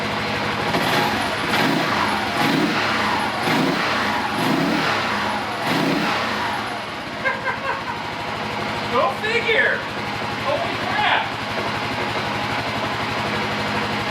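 A Kawasaki KLR motorcycle engine idles steadily on first start in the background while someone talks excitedly over it, its low rumble continuing evenly throughout.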